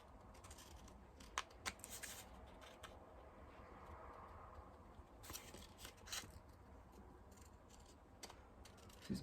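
Scissors cutting through thick paper or card while making tags and pockets for a junk journal, a run of quiet crisp snips and rustles, close but faint, with no talking.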